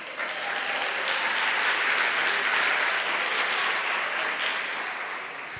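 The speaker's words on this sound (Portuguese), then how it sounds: "Dá um aplauso para Jesus." A church congregation claps for Jesus at a service, a broad, continuous wash of applause that builds, peaks midway and tapers slightly toward the end.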